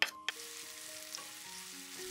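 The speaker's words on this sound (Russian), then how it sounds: "На сковородку наливаю растительное масло и обжариваю лук на сильном огне до мягкости лука." Onions frying in vegetable oil in a pan over high heat, a steady close sizzle with a couple of brief clinks at the start.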